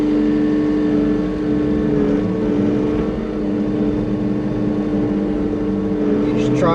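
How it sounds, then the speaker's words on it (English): Inside the cab of a skid steer grading ground with its blade: a loud, steady engine drone with a constant hum fills the cab, with slight load changes throughout. "This is what it looks like on the inside of the skid steer while I'm grading with the blade."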